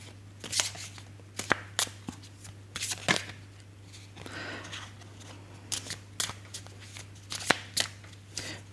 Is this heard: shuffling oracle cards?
yes